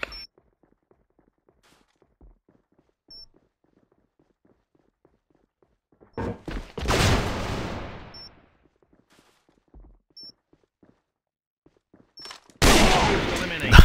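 Gunfire in the video game AVA, including a sniper quick scope: two sharp, loud bursts of shots stand apart from long near-silent gaps and a few faint clicks and footsteps.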